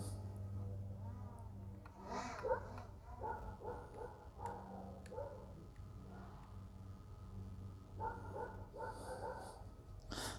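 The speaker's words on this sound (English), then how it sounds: "The dog is not too happy with us next door." A dog next door barks in short bursts and clusters, moderately close, with quieter gaps between volleys, heard outdoors beside a home with wind and faint background noise.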